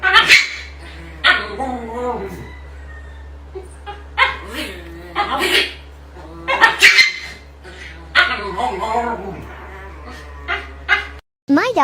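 A dog barks and yips repeatedly in short excited bursts over a steady low hum, with some whimpering between barks.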